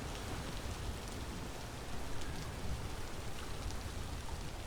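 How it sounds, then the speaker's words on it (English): Steady rain falling in the Vintage Story video game, a dense, even hiss of drops with no break, fairly loud and alone. "Hopefully this rain will clear before long"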